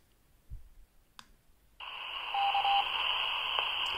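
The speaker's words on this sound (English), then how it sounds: "And the Worthing repeater, here it goes." An amateur radio repeater transmission received on a handheld transceiver: a faint click and short blip, then a steady loud tone-like carrier with a brief beep that holds to the end, heard alone without talk.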